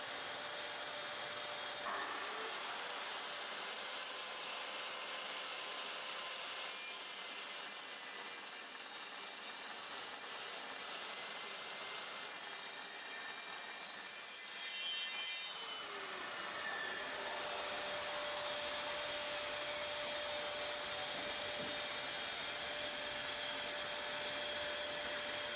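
A power saw cuts thin strips of pine wood with a steady, loud whining roar that shifts in tone partway through and holds for over twenty seconds.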